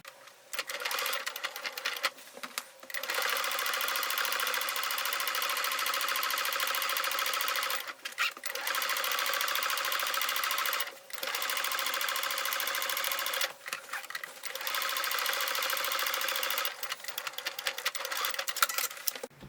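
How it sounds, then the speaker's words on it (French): Sewing machine running a seam along the edge of a fabric pouch trimmed with lace, steady stitching whirr in long bursts with brief pauses, moderately quiet and without talk. "on fait une petite couture comme ça ici, tout le long sur le bord, là où on a cousu"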